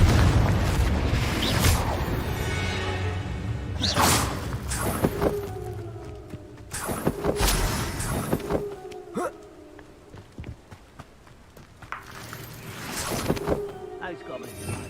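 Blasting-spell explosions in the Hogwarts Legacy video game, with several heavy booms and bursts spread through a busy combat soundscape, while a voice speaks at points.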